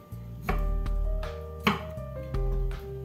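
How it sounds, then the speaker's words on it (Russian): A knife chops cucumber into long rounds on a board with several crisp, close strikes at an uneven pace, while soft background music plays underneath. "Огурцов отрезаю плодоножку и носик и нарезаю кружочками длинными."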